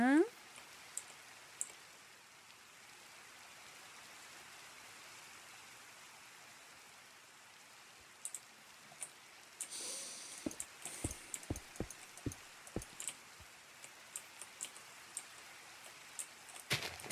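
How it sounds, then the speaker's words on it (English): Rain falls in the Minecraft video game as a soft, steady hiss throughout, with scattered sharp clicks and taps over it toward the end. "Now we have rain."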